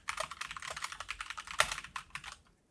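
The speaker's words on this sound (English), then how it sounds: "It's clicky clack keyboard time." Rapid, close clicky typing on a computer keyboard, a dense run of sharp key taps with one louder stroke near the middle, trailing off into quiet at the end.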